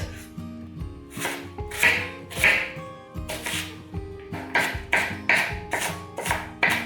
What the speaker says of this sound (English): Then I'm gonna cut the onion into very tiny pieces.